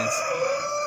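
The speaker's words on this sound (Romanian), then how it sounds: "Cocoș. Cochin pe negru." Close, loud crowing from a black Cochin rooster at a poultry exhibition: a single steady, brassy sustained note with strong harmonics, heard alone without talk.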